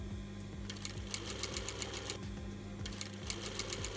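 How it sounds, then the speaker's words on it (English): A sewing machine stitching binding along the edge of a fabric dust mask, running steadily with a fast rhythmic needle clatter and low motor hum, close and fairly quiet, no talking. "we're just stitching along the edge of the binding along the mask"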